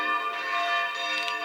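A man rings church bells somewhere in Ukraine, the tones ringing steadily and overlapping in a sustained, shimmering wash that carries clearly through the whole moment with no talking.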